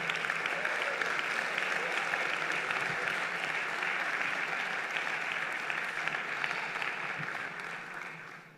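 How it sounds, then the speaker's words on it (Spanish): A church congregation bursts into loud, sustained applause, a dense wash of clapping and cheering that fills the room evenly before tapering off at the end. "Dale un fuerte aplauso al Señor."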